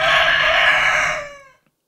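A rooster crows once, loud and close, a strained drawn-out call that fades out abruptly after about a second and a half.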